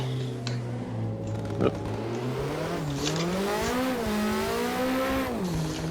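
Car drifting in the racing game Assetto Corsa, a constant engine howl rising and falling with throttle alongside sustained tyre squeal through a corner, heard alone with no talk.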